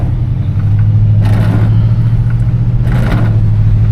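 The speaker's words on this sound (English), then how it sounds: "350, you know, has a decent growl to it." A 1971 Oldsmobile Cutlass with a 350 V8 drives along, its engine giving a steady low growl with a couple of brief swells in revs over a constant road rumble.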